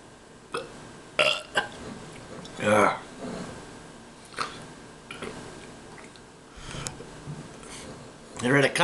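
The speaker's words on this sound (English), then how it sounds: "somebody wants me to do a video without burping" A man drinking a 40 oz Pabst Blue Ribbon lets out several loud, drawn-out burps in between stretches of talking, close to the microphone.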